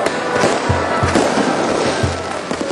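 Fireworks finale, a dense continuous crackling barrage with repeated low booms punctuating it, loud and close, with no voices heard.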